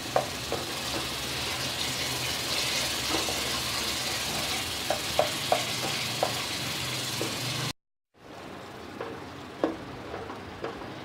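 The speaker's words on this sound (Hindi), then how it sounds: "अब हम मसाले को तेज़ आंच करके भून लेंगे" Masala with softened tomatoes frying on a high flame for a chicken and potato curry, giving a steady close hiss and sizzle with faint crackles. It cuts out briefly, then resumes more quietly.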